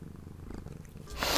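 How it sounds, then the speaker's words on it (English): A house cat purrs softly and close by with a low, rhythmic rumble, and a brief rustle swells near the end. "Listen to that purr."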